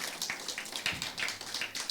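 Congregation clapping in a church service, a scattered burst of handclaps filling the room at moderate level with no talk over it.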